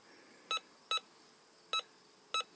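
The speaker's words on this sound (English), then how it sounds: "What's she ringing up on the detector?" A metal detector sounds on a target in the bush by a river, giving four short, sharp electronic beeps in an uneven pattern over a quiet background.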